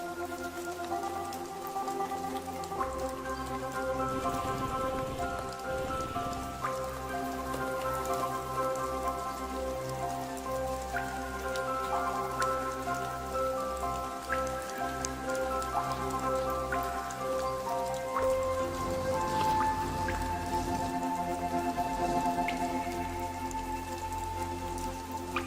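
Rain pours onto rainforest leaves in a steady, dense patter that stays loud and continuous throughout, with no voices or other sounds breaking through the drumming.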